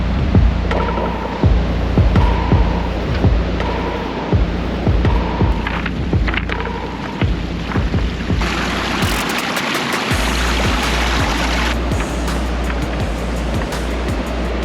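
Ocean surf rolls onto Short Beach on the Oregon Coast, a continuous loud wash of breaking waves with rhythmic low thumps early on and a brighter, hissier swell later.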